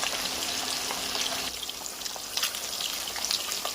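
Steady frying sizzle of rohu fish pieces in a pan, a dense crackling hiss throughout with a few sharper pops, close by and fairly loud.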